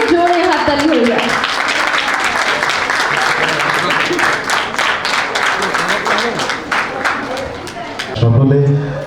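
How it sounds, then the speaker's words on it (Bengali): Loud, enthusiastic audience applause at a baby's rice-feeding ceremony, many hands clapping in a dense, sustained burst that fades toward the end as a voice comes back in. "সৌরভ, তাদের একটু জোরে জোরে হাততালি হয়ে যায়।"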